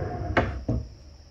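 A wooden drawer on a homemade DIY camper kitchen table slides and knocks twice in quick succession, close and fairly loud.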